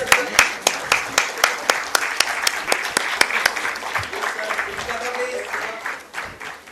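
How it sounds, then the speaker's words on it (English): Applause rings out at an IPO listing ceremony for TVS Infrastructure Trust, starting with sharp, evenly spaced claps that grow into fuller crowd clapping, then ease off toward the end. "this is our cue to give a huge round of applause"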